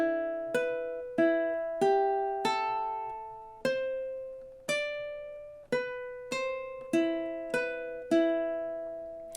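The riff from The Exorcist is played on a ukulele in steady time, with bright plucked notes repeating in a looping pattern and each note decaying cleanly before the next.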